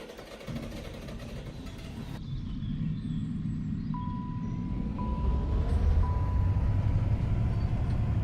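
A tractor engine that is running hot in Farming Simulator 25 drones steadily and grows slightly louder, and a thin tonal beep repeats a few times over it.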